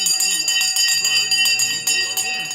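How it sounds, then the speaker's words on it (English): The stock market opening bell rings steadily, a bright sustained electronic ringing that carries on under a voice as he talks over it throughout. "The bell has gone."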